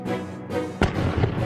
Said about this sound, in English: He imagined firing a cannon from the top of an extremely tall mountain.